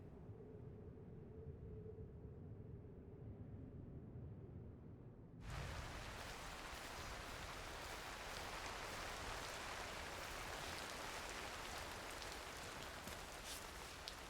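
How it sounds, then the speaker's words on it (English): Rain in a video game, Cairn, hisses softly, then abruptly swells into a loud, dense downpour that continues steadily to the end. "It's raining, but this is mostly under an overhang"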